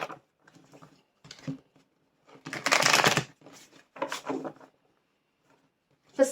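Tarot cards shuffled in bursts, a short riffle at the start followed by a louder, dense flurry in the middle and brief scattered flicks afterward, close and crisp with quiet gaps between.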